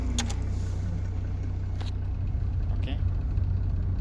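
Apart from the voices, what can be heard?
automatic car engine idling in park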